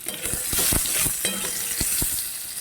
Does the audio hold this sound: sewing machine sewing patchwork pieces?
no